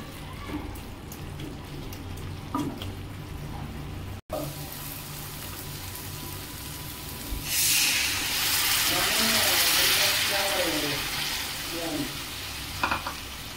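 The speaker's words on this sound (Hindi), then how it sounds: "एबे हमार मसला फुटिबारे लागिलानी" Masala spluttering and frying in hot oil for a rohu fish curry, a steady sizzle with occasional stirring that grows into a louder, brighter spatter partway through, with faint speech in the background.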